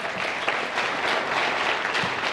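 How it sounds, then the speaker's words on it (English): Steady audience applause at a middle school National Honor Society induction ceremony, welcoming the Board of Education president; a dense, even wash of clapping from a crowd in a hall, heard alone without speech. "Give her a round of applause."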